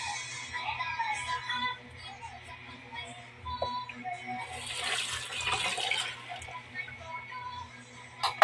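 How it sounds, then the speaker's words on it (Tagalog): Tap water runs steadily into a sink as a kitchen knife is washed, a soft, continuous splashing with brief clinks and a louder surge of flow partway through. "Tapos hugasan natin yung kutsilyo."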